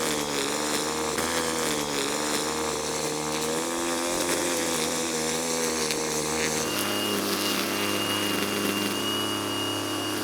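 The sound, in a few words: strimmer trimming lawn edges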